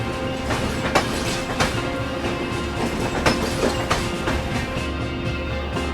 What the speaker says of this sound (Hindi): इस वक्त हम लोग हजरत निजामुद्दीन रेलवे स्टेशन को क्रॉस कर रहे हैं